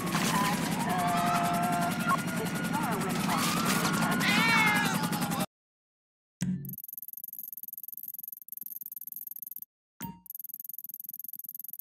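A cat meows in the GTA 5 video game, a few short cries rising over a busy game soundscape before the sound cuts to near silence, with a high steady tone and a sharp click afterward.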